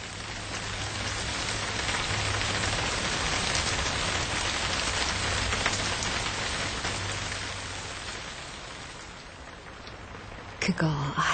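Steady rain falling as a sound effect in a Korean radio reading, a dense even hiss of drops on a surface running throughout before fading slightly near the end.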